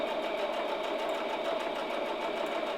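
Sewing machine stitching a basic hem on upcycled denim jeans, a close, steady, continuous whir that keeps an even pace throughout, with no voices.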